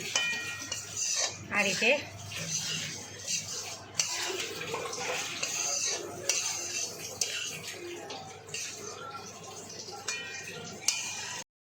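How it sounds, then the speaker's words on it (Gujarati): Ground coconut is roasted in ghee, stirred with a utensil that scrapes and clinks against the pan in an irregular rhythm over a soft sizzle, while a voice speaks briefly. "હવે આપણે જે કોપરું પીસ્યું તેને આપણે થોડું ઘી રેડીને ફરી શેકી લઈશું"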